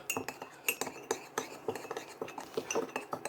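A teaspoon clinks and scrapes against a bowl while mixing powder and rice wine into a paste for crispy pork belly, giving a quick irregular run of close metallic taps.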